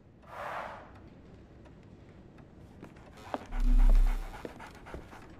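Dog panting in the video game Sherlock Holmes: The Awakened, a short breathy burst near the start, followed by quieter ambience, a low rumbling swell and a few sharp knocks.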